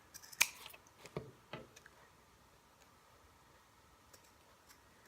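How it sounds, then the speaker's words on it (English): Scissors snip gift-wrap ribbon tails, a few faint, quick cuts clustered near the start, then near-silence with tiny ticks. "I need to trim those a little bit shorter"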